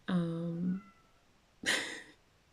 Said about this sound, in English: Okay, so my cat keeps making noise.